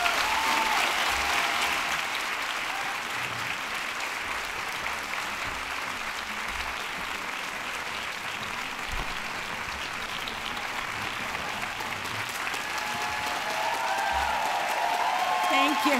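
A large luncheon audience at a Brown University women's conference breaks into sustained, dense applause welcoming Dr. Janet Yellen, the clapping steady and full throughout with a slight swell near the end.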